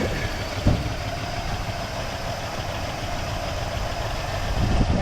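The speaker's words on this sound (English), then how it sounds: "You guys will hear a little bit of lifter noise because the engine's been sitting for so long" A Cadillac Deville V8 engine, long unused, idles steadily with a faint ticking lifter clatter running through the low rumble, close by, with no talking.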